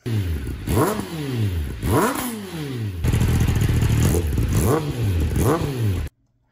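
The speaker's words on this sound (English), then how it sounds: "the engine is not warm enough and he's revving it" A cold Kawasaki Ninja motorcycle engine is revved hard in a run of sharp blips. Each rise and fall repeats about once a second, then a steadier high rev holds before a sudden cutoff, loud and close, with no talk.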